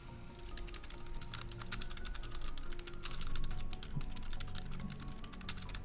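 Rapid, uneven clatter of keys on a computer keyboard, typed steadily and close by for several seconds over a faint room hum, with no voices.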